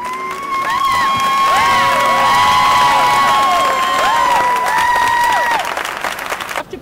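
An ice rink audience at an adult national ice dancing championship cheers and applauds loudly, dense clapping with shrill whoops and shouts rising and falling over several seconds, then cutting off abruptly.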